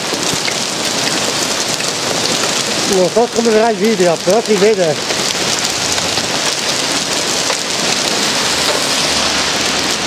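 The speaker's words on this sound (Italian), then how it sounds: "Comunque sta grandinando una follia." A hailstorm in Trieste, heard on a city street as a dense, loud, steady patter and roar of ice hitting surfaces close by, with a person talking briefly over it.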